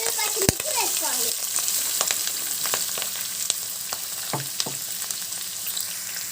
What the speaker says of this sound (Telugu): దీంట్లోనే మనము ఆనియన్స్, పచ్చిమిర్చి వేసుకోవాలి.